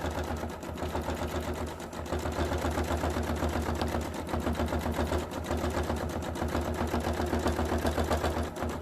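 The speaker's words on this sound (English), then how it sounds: "going to finish stitching this one" A sewing machine stitches raw edge applique, a close, steady motor whir with rapid needle chatter that runs almost without a break, heard alone without speech.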